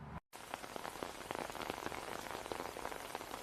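Steady rain falls and patters on surfaces outdoors, a dense even hiss of drops throughout after a brief silent gap at the start, with no voices.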